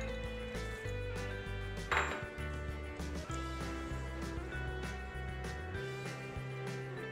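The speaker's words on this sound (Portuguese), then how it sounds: "Então agora vai entrar o chocolate picado e as nozes picadas." Chopped chocolate and walnuts go into brownie batter in a bowl, with repeated clinks and knocks of utensils against the dish, one sharper clack near the middle, moderately close and without talk.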